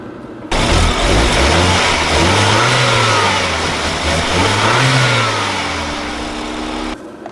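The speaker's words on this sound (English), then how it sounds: "a twin-turbo four-cylinder going through a transmission to the rear wheels through a differential" A BMW's twin-turbo four-cylinder engine, driving the rear wheels through a transmission and differential, accelerates hard. It is loud and close, rising through revs, easing, then climbing again in a steady droning roar.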